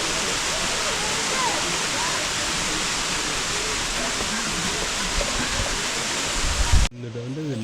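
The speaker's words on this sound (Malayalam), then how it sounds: "ഈ വാട്ടർഫാൾസ്." Waterfall near Tiger's Nest in Bhutan, a steady loud roar of falling water that fills the whole clip before cutting off sharply near the end, giving way to a faint hum.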